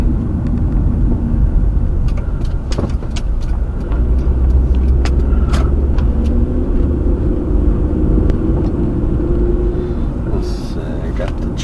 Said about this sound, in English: I got a car coming.